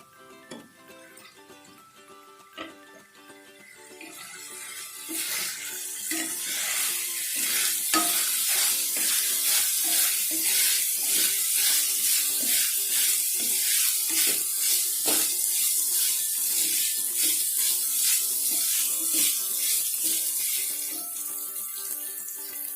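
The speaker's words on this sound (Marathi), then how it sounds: "व्यवस्थित मसाला तेलामध्ये भाजून घ्यायचा." Homemade red chilli powder and spice masala frying in hot oil for a green ghevda bean dish, a steady close sizzle that builds after a few seconds and holds loud, broken by repeated stirring scrapes.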